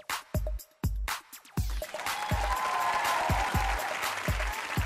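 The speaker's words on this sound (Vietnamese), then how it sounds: "Chị phải vỗ tay dữ vậy." Audience clapping on a Vietnamese dating game show: a few sharp, isolated claps and thumps at first, then a fuller burst of applause with crowd murmur underneath that carries on to the end.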